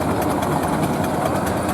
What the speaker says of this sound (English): They are real, working, live steam engines.